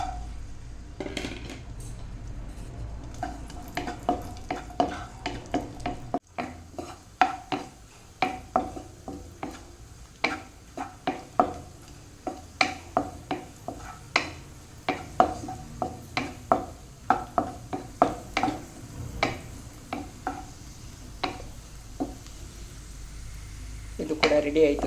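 Raisins fry in ghee in a pan for a rustic jackfruit-seed laddu, with repeated close scraping taps of a spoon stirring over a soft sizzle.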